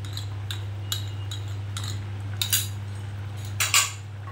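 A utensil clinks against a pot while a cracked egg is stirred into chicken soup, sparse metallic taps over a steady low hum of the stove.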